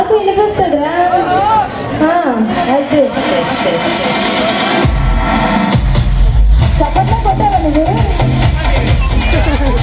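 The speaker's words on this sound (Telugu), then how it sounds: "ఆ రోడ్డు పైన జనకోలాహలం ఏ విధంగా ఉందో ఇప్పుడు మనం చూస్తూ ఉన్నాము." A festival crowd fills a road during the Sri Gowri Parameshwara festival in Polepalli: dense chatter and voices over steady bustle, with a heavier low rumble and bang-like thuds swelling through the second half.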